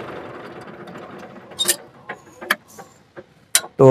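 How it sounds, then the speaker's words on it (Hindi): A tractor engine rumbles low and fairly quietly, then dies away after about a second and a half, leaving scattered mechanical clicks and knocks. "तो मैं पहले ट्रैक्टर को बंद कर लूँ"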